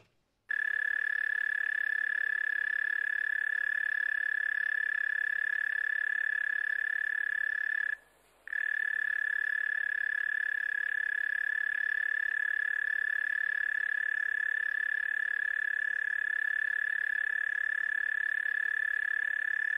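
A high-pitched buzzing call from the insect species Quillatapa holds almost unbroken for about twenty seconds. The tone is steady and fairly faint, with one brief gap around the middle, and no voices are heard.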